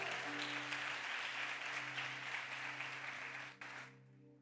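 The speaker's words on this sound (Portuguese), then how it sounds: "Você pode aplaudir a Ele nessa noite?" A church congregation applauds in a dense, sustained wash of clapping over held keyboard notes, then the clapping cuts off, leaving the notes ringing briefly.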